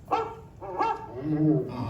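A dog gives a few short barks and yips in quick succession, close and fairly loud, with no talking, during the Carousel of Progress show at Magic Kingdom.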